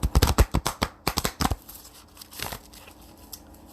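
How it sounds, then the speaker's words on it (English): Large tarot cards are shuffled sideways by hand, a quick run of sharp riffling slaps, a short break, another burst, then softer sliding and rustling up close. "these are big cards. That's why I have to shuffle them sideways."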